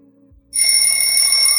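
An alarm notification from the TaskHub Android task manager app rings out suddenly after a quiet moment, a loud, steady electronic bell-like tone that continues without a break.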